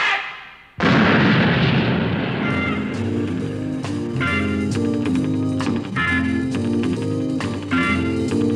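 A single loud cannon blast from a staged historical firing practice, a sharp boom followed by a lingering roar as music plays on underneath.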